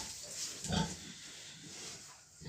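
Piglets grunt and oink softly nearby, a few short snorts standing out against a steady low hum.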